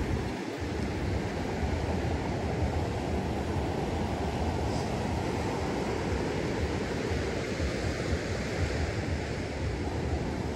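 Ocean waves surge and break continuously at Legian Beach in Bali around evening, a steady broadband roar with wind buffeting the microphone and no voices.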